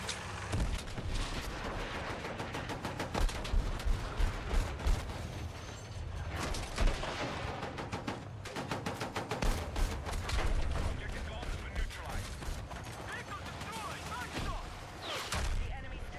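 Bursts of gunfire and mechanical clatter fill a Battlefield 6 multiplayer match, with rapid repeated shots, louder volleys and explosive thumps spread through the stretch, voices heard intermittently beneath.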